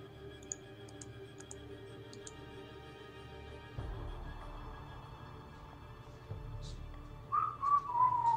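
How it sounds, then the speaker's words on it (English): A person gives a short, rising, tonal whistle near the end, heard over faint ticking and clicking during a live video game stream. "Oh, and I hear his dumbass whistle."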